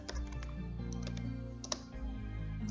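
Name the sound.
typing on a computer keyboard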